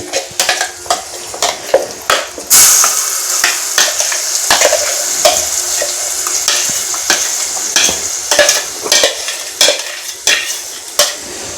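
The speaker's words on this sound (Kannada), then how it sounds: "ಇದು ಸ್ವಲ್ಪ ಇವಾಗ ಹಸಿ ವಾಸನೆ ಬರೋ ಹೋಗೋವರೆಗೂ ಸ್ವಲ್ಪ ಫ್ರೈ ಮಾಡ್ಕೋಬೇಕು" Masala mixed with ginger garlic paste frying in a pan: a steady sizzle runs underneath while a spoon scrapes and stirs in quick, irregular strokes, close and fairly loud, with no voices.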